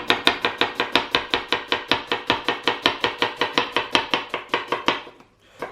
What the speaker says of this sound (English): we are going to cut out a little bit of the root there